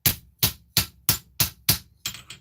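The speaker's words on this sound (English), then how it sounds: "So I'll hammer that in." A hammer strikes a metal piece to close up and tighten its loose bottom: seven sharp, ringing blows at an even pace of about one every third of a second, close and loud, with no talk.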